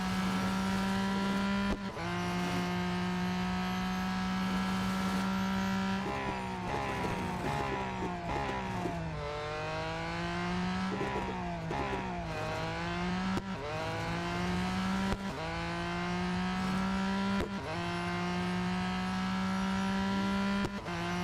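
A race car engine in Real Racing 3 revs hard and steadily, its pitch climbing and dropping again and again through gear changes, loud and close, with no talk over it.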